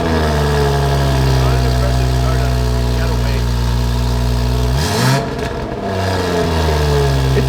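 A car engine at a car club event idling loud and close, then revving up sharply partway through before settling back, with a brief rough burst as the engine note shifts.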